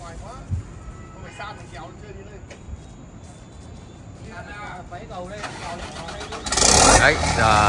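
A Doosan excavator, freshly pulled out after overturning into a pond and given an oil change, cranks and fires up near the end with a sudden loud roar, following a stretch of quieter background noise and people talking.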